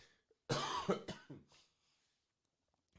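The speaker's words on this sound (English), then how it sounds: "I got a cough." Several harsh, close coughs from a man with a cough in a quick burst, followed by a fainter throat-clearing sound and then near silence.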